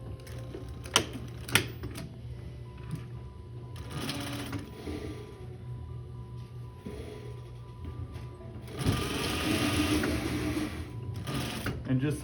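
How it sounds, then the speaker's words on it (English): A sewing machine stitches a quarter-inch seam on the lining of a blanket coat. It runs in several bursts of rapid mechanical whirring, separated by pauses with faint clicks and handling noises. "And just sewing that at 1/4 inch."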